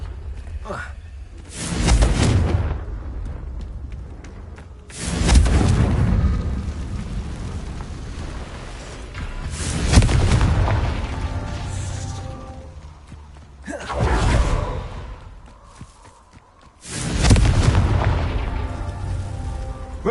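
Confringo spell explosions in the Hogwarts Legacy video game: five heavy booms roughly every three seconds, each with a long rumbling tail, while a voice speaks between them.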